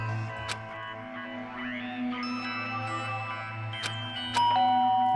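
A two-tone chime from a doorbell in the Danganronpa game, sounding once clearly and then again over a faint steady background hum.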